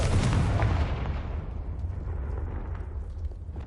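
A Confringo fire spell explodes in Hogwarts Legacy: one loud, close, booming blast right at the start, its broad roar slowly fading into a rumbling tail over several seconds.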